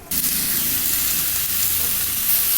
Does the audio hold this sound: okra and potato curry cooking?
yes